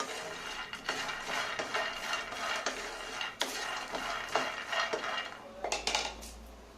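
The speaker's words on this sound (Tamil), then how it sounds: "சட் சட்டுன்னு சவுண்ட் வருது இல்லை, அதுதான் ஒவ்வொரு கலக்கா கொட்டையும் நல்லா ட்ரை ரோஸ்ட் ஆகுது." Peanuts dry roasting in a pan for ladoo are stirred with a utensil, giving close scraping and clattering and scattered sharp crackles at an uneven pace.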